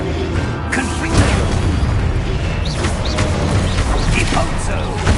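A Confringo fire spell detonates in the game Hogwarts Legacy, with dense, loud booming blasts and crackling bursts rolling continuously alongside game effects and voices.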